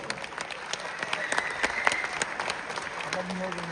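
An audience at a high school jazz orchestra concert claps steadily for a trombonist in a short burst of applause that swells in the middle, with a voice faintly underneath.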